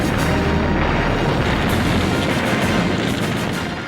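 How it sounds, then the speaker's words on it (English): Dense, continuous rumbling of bombs exploding during the 1941 Soviet air raid on Berlin, a loud, grainy wall of booms and crackle with no pauses, tapering slightly at the end. "The Russian Air Force carries out its first bombing against Berlin."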